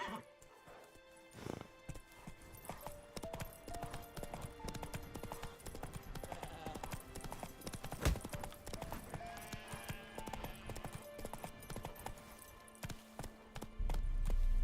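Video game horse galloping at a run, hooves clip-clopping in a fast rhythm with scattered thuds and game sound effects and a brief whinny, with a voice speaking over it.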